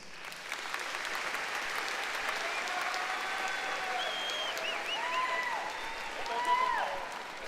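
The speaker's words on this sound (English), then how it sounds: "will you please join me in a round of applause" Steady applause from a large crowd at a high school graduation ceremony, with a few whistles rising over the clapping near the end.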